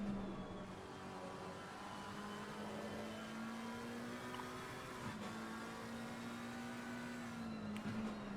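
Race car engines droning steadily through Brands Hatch in a racing video game, a continuous mid-pitched whine rising and falling slightly with no voices over it.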